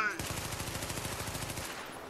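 Rapid automatic gunfire in Tom Clancy's The Division as the fire button is held, a dense, even burst of shots that runs for about a second and a half and then stops abruptly.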